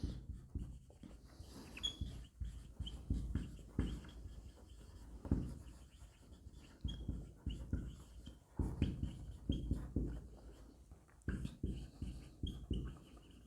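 A marker writes examples in blue on a board, giving repeated soft scratchy strokes in uneven bursts, fairly quiet and close, with no speech.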